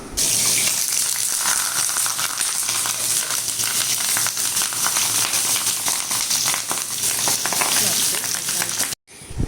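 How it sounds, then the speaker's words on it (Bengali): Katla fish pieces fry in hot oil in a frying pan, a loud, steady, crackling sizzle that runs almost without break before cutting out briefly at the end. "এবার আমি মাছগুলো দিয়ে দিলাম। ধীরে ধীরে মাছগুলো এবার হালকা আছে ফ্রাই হবে।"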